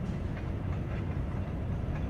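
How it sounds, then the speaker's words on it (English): A train rolls along rails at some distance, a steady low rumble with faint rhythmic clatter throughout, heard near an oil drill site on a foggy day with traffic in the background. "Although I do hear the train"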